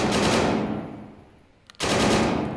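Rapid automatic gunfire in a VR shooting game, loud bursts opening and closing a short gap of near silence, with no talk over it.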